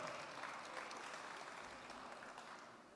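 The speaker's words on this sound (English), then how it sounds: "we'd like you to give yourself a round of applause for being here" An audience at a farewell concert show claps for itself: faint, distant, continuous applause with an even texture throughout.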